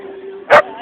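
A large dog at an outdoor fall festival lets out one loud, short bark, alone and close by, over a steady background hum.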